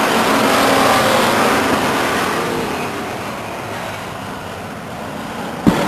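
Stock cars at Stockton 99 Speedway roaring past on a lap, a loud broad engine wash that slowly fades as the pack moves away, ending with a brief sharp knock.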